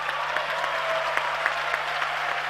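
A crowd of students at a school youth dialogue session claps steadily, a dense wash of many hands with scattered sharper claps, moderately loud and continuous for a couple of seconds.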